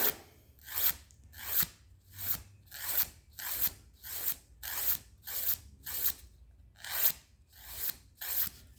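A toenail being filed and beveled during a pedicure, a close, quiet rasping stroke repeated in a steady rhythm about once a second, each pass a short scratchy swish, with no talking.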